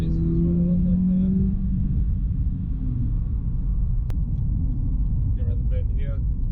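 A Subaru BRZ fitted with a Pro Speed Racing unequal length header rumbles low at light, partial throttle while driving, a steady deep drone with someone talking over it.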